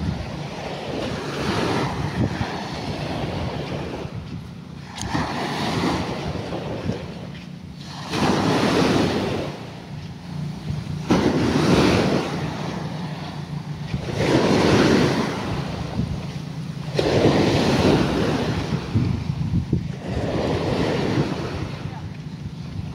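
Ocean waves roll onto the shore at Capones Island, Zambales, surging and retreating in a slow rhythm every few seconds under steady wind buffeting the microphone, with no voices heard.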